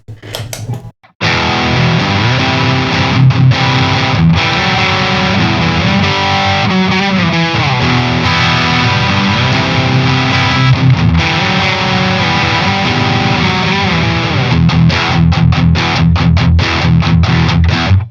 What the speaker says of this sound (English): next we're gonna kick on the Nobles Overdrive.